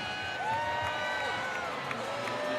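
A large evening crowd at an Angels–Mets baseball game fills the stadium with a steady, moderately distant murmur and cheering, with whistle-like tones drifting through and talk over the top.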